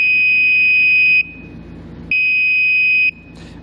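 A circuit tester clipped to trailer wiring lets out two steady electronic beeps, each lasting about a second with a short gap between them, loud and close, with no talking.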